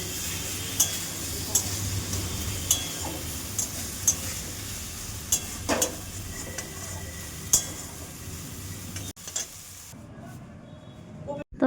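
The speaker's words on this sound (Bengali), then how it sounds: "আবার এদিকে আমি বসিয়ে দিয়েছি এখানে আলু ভাজা, সিম ভাজা, গাজর ভাজা একসাথেই বসিয়ে দিয়েছি।" Potato, bean and carrot pieces fry together in a wok, giving a continuous sizzle. A utensil stirs and taps them with sharp metallic clinks every second or so, then the sizzle drops away near the end; no one speaks.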